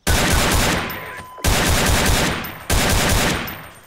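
Three loud single shots from an FN FAL semi-automatic rifle in the M9K weapons pack of a video game, each a sharp blast with a decaying tail, spaced about 1.3 seconds apart, with no voices.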